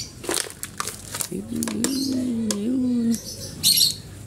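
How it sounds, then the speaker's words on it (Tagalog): Bird chirps and short tweets come in bursts, with a clear sustained call in the middle; a voice talks over much of it. "Si Luigi, kauna-unahan naming ibon to eh."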